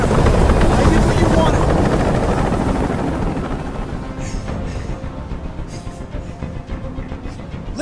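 A loud, steady helicopter rotor drone from the video game Detroit: Become Human, with heavy low thumping that gradually fades a little, with some voices faintly audible over it during a hostage standoff.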